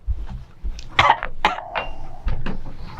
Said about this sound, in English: Oh, you're making me cough.